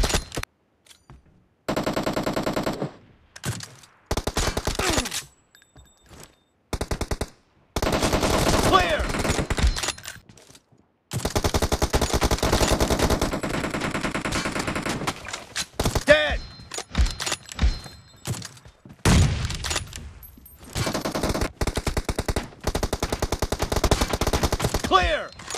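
Gunfire from an M24 sniper rifle and other weapons in the PUBG Mobile shooting game, loud sharp bursts and single shots repeating in irregular clusters with short silent gaps and occasional game voice callouts.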